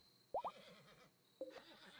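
Short in-game horse whinnies from Rimworld: a quick pair of bright squeals near the start, then a single brief call later, over a soft steady background hum.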